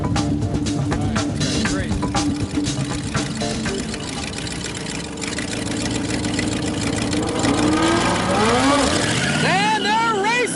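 Junkyard-built hot rod cars racing, engines roaring loud and continuous, with rising and falling revs and whining pitch sweeps toward the end as they pull away.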